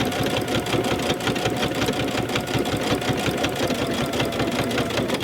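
A sewing machine with a digital dual-feed walking foot stitches binding onto a quilt, a steady, fast mechanical whir and needle chatter running close and unbroken.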